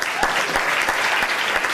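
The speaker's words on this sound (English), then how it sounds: "Can I have a round of applause for BP," Audience applause at an evening chemical engineering show, dense loud clapping throughout the short stretch.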